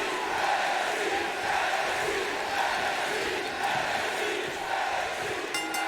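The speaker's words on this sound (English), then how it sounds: "This crowd red hot and ready as the bell sounds" A virtual wrestling arena crowd in WWE 2K20 roars continuously, a loud, swelling mass of cheers and yells at the start of an NXT tag team tournament match, with a faint ringing near the end.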